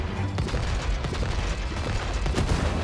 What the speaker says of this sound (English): aim those fireworks there